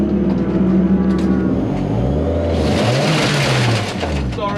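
Saloon race cars from the Classic Thunder Saloons series at Silverstone roar loudly and continuously, engines revving through a crash as one car slides off into the gravel, with excited voices talking over the din.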